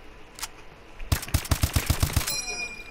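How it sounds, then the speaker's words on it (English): A rapid burst of about seven sharp, evenly spaced rifle shots from Call of Duty: Advanced Warfare fires off like an automatic weapon. A faint click comes just before the burst, and a metallic ringing tail follows it. "It's like an automatic rifle when I do it."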